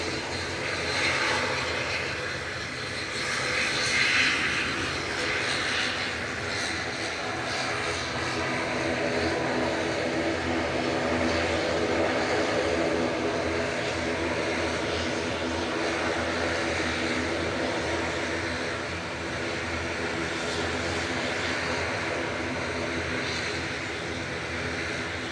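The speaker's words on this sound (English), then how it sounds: "Double props. Proper loud." A loud Loganair twin-propeller aircraft at Manchester Airport drones steadily and close by, its engine and propeller noise swelling slightly early on and then holding strong for the full length, with no talking over it.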